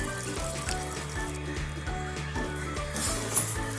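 Part-boiled vegetables go into a pot of veg dum biryani and are mixed in, giving a soft sizzle with rubbing and stirring scrapes at a close, moderate level and no speech.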